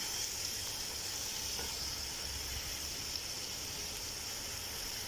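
Tomatoes frying and being mixed in a pan for aloo chicken shorba, a steady low sizzle and hiss that runs unbroken and fairly faint throughout.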